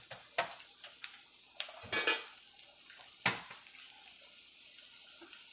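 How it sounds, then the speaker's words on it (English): Spaghetti with black pepper stir-frying in a pan, a soft steady sizzle broken by several sharp clinks and scrapes of utensils against the pan. "And just a stir fry for a few less than a minute."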